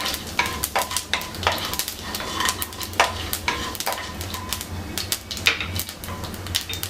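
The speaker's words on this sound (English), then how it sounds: "So on the hot oil, I let my mustard seeds splutter." Mustard and fennel seeds sizzle and splutter in hot oil, a steady fry with frequent sharp crackling pops and light utensil clinks throughout, close and fairly loud with no talking.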